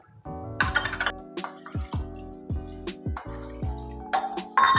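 Water being poured into a pressure cooker over rice for chicken biryani, a run of splashy glugging pours with drips and light clinks, close and clear, no talking.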